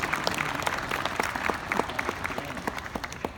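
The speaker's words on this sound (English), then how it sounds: "Let's all give the design team a round of applause." An audience at a new building ceremony for Great Basin Hall at UNR applauds the design team, with steady, sustained clapping from a sizeable crowd heard at moderate distance.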